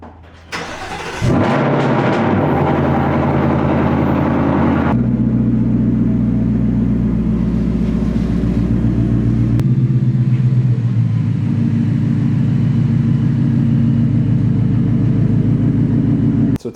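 A 2024 Ford Mustang GT V8 cranks and fires with a sharp bark, then settles into a loud, deep, steady rumble that shifts in pitch twice as it idles, close and alone.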